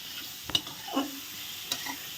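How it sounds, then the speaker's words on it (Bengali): Green chillies fry in a spice paste, stirred with a few scraping strokes and light clinks over a faint, quiet sizzle. "কাঁচা লঙ্কা দিয়ে ভালো করে কষিয়ে দিলাম"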